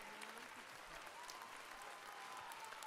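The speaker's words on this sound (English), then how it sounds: "Let's give them a little round of applause." Applause sound effect from a crowd, a steady dense patter of many hands clapping, quite faint and continuous throughout with no pauses.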